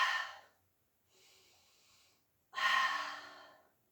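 A person doing a pilates exercise breathes close to the microphone in three long breaths: a strong exhale, a softer one, then another heavy, airy breath, all without speech.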